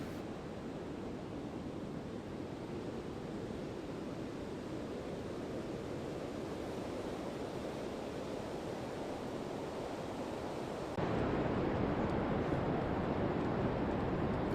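Ocean surf washes over tide pools beneath sandstone cliffs at Cape Kiwanda, Oregon, as a steady, distant, broadband roar that grows louder toward the end, with no voices.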